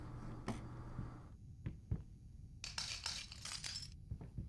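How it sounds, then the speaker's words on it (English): Glass crunching and clinking underfoot as a character walks through the Layers of Fear video game, a few sharp cracks followed by a denser cluster of brittle crackles over a low ambient hum. "Multiple glass, walking sound effects."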